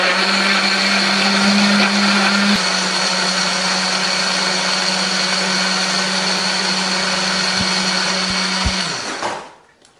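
A kitchen blender grinds red curly chili, shallots, ginger and a little water into paste, a loud steady motor whir with a blade hum running about nine seconds before spinning down and stopping.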